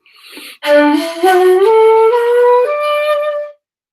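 A shakuhachi flute plays a short rising Japanese scale of sustained notes, breathy, stepping up a few pitches with a soft airy attack, loud and close.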